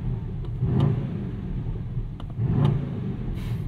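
The 4-liter V8 of an Aston Martin DBX 707 in Sport Plus mode revs twice against a soft limiter at 3,500 RPM, with a deep rumbling burble swelling and settling between blips, close and moderately loud.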